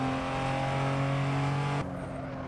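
Toyota Supra accelerating in the racing game Assetto Corsa, a loud sustained engine drone holding steady, then cutting off abruptly near the end as the pitch drops and it fades to a lower hum.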